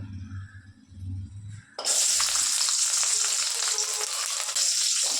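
Loud, steady sizzle of garlic hitting hot oil for a herbal pepper rasam, starting abruptly after a quieter moment and continuing as a dense, crackling hiss.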